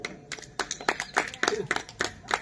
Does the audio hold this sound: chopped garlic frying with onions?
no